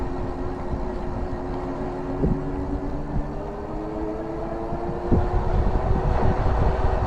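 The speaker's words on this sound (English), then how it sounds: "the noise of the motor is very quiet, much quieter than I expected actually" Lectric XPedition 2.0 e-bike ridden on throttle, its hub motor a quiet steady whir beneath continuous road and wind rumble, with a couple of brief knocks from bumps along the way.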